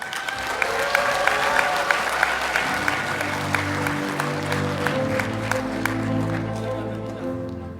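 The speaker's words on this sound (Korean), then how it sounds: "저를 아시는 분들은 조금 더 힘찬 박수 부탁드리겠습니다" Audience applause fills a room at a political party's legislative activity report event, dense and sustained clapping from a sizable crowd with voices and murmuring mixed in throughout.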